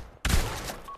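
A short SMG burst in the video game Pavlov, a sudden loud blast that cuts in after a brief quiet moment and then tails off into a sustained rumbling decay, close and alone without voices.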